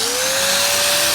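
An angle grinder works against a car body panel on a Golf GTI race-shell build, giving a loud, continuous, close-up high-pitched whine with a steady tone and a hissy edge, with no voices.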